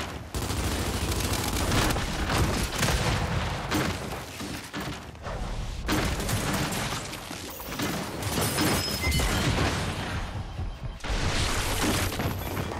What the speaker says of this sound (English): There goes the nades